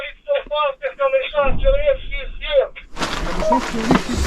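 Close shouted voices give way to a sudden loud, rumbling blast of gunfire and artillery during fighting in the war in Ukraine. The heavy booming and crackle fill the final stretch.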